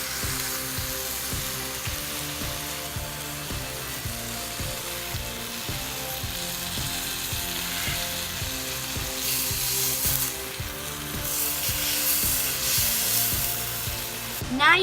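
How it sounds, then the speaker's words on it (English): Steak sizzling in a hot pan, a continuous close frying hiss with a rhythmic mechanical ticking underneath, with brief swells of louder spattering later on. "I'm just cooking up the steak."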